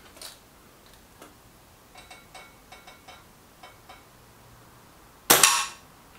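A Reximex Pretensis air rifle fires a single sharp, loud shot near the end, preceded by a run of faint clicks and ticks from handling.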